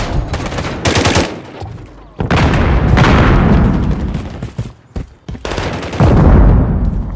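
Rapid gunfire bursts from the Call of Duty MW3 video game played on PS5, loud and close, with automatic fire in several sustained volleys broken by short pauses and heavy impacts.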